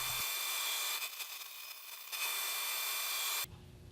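A saw rips thin strips off a laminated wood board for diamond-shaped inlay, a steady broadband cutting whine holding for over three seconds, then dropping off abruptly near the end.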